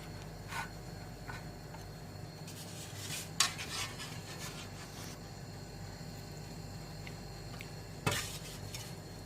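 A spoon stirs custard powder into milk, a quiet continuous scraping and swishing with a couple of sharp clinks against the vessel.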